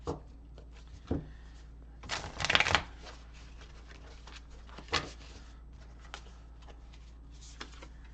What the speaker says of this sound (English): For a new deck, this one like shuffles too easily